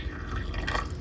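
Water runs into a deep sink inside an inTech teardrop trailer, giving a brief steady splashing flow with dripping, close by.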